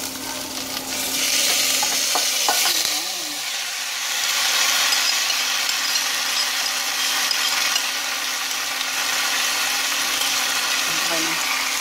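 Food fries in a pan while being stirred, with a constant loud sizzle and hiss, scraping stirs near the start, and faint background noise throughout.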